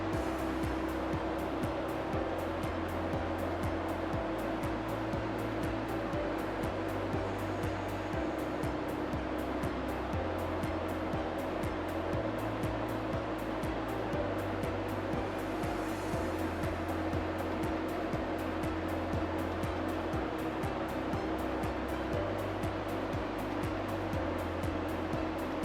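A Fluoroware HTC 8000 cassette and box washer runs its wash motors, giving a steady, moderate mechanical hum with a rhythmic pulsing churn underneath that continues unbroken throughout.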